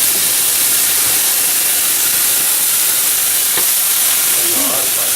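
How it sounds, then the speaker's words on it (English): White wine splashed into a hot pan of cooked proteins, sizzling and catching fire, giving a steady loud broadband hiss and crackle throughout with a brief sharp pop midway. "So we're just going to hit it with a touch of this white wine"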